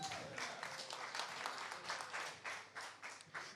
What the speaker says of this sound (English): Can I hear a round of applause for that?